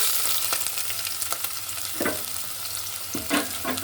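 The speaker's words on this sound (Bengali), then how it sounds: "তেল ঢেলে দিচ্ছি বেশ কিছু পেঁয়াজ কুচি" Chopped onions frying in hot oil in a pan, a steady close sizzle with a few sharp spatters and clinks as a fish dish is cooked, no voices.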